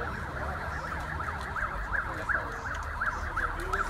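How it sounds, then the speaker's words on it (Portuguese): A rescue vehicle's siren wails in a steady repeating rising-and-falling pattern as it pulls away from the scene of a police confrontation with a cargo-theft gang, carried over loud continuous traffic and street rumble. "Sai neste momento a viatura de resgate."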